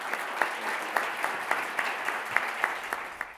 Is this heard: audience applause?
yes